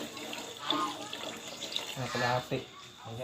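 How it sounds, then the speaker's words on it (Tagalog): Water pours into a pot of chop suey on a home stove, a soft splashing stream heard close up while a person talks over it. "Lagyan natin ng tubig."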